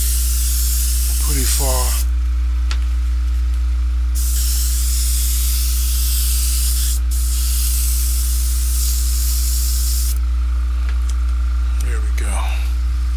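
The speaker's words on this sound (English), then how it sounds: "As you can see, I'm holding the airbrush back" An airbrush sprays paint onto a model in several sharp, steady bursts of hiss separated by short pauses, over a constant low hum, with a person talking briefly.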